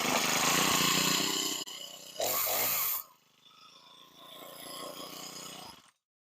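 SENIX 4-stroke 18-inch chainsaw starting and running: a loud close mechanical engine roar with a rough pulsing texture, a brief pause and blast of noise, then a quieter idling hum that fades out.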